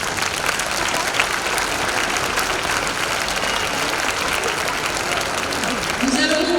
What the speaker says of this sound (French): je pense qu'on peut les remercier et les applaudir chaleureusement